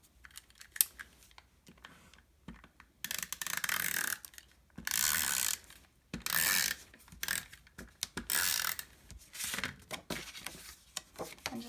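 A snail adhesive tape runner is pulled across cardstock for a folded card base, producing several quiet, close ratcheting clicks in short bursts separated by brief pauses.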